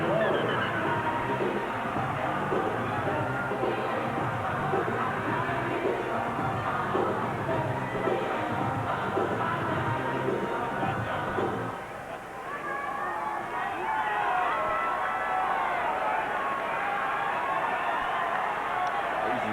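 A large rugby league stadium crowd at a 1998 Canberra Raiders vs Brisbane Broncos match roars in a sustained, dense wall of cheering that dips briefly and then swells again, with a commentator talking over it.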